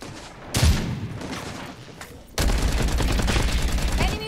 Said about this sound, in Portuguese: Eu tô ouvindo bastante tiro.